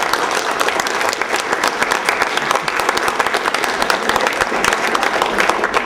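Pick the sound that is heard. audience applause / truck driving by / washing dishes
audience applause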